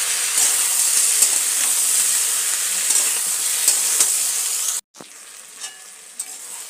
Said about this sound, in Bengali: এইবারে কিন্তু খুব ভালো করে কষিয়ে নিতে হবে।